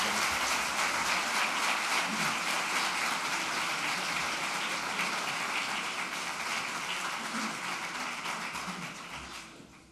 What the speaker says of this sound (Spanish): yo les pido a todos para él un extraordinario aplauso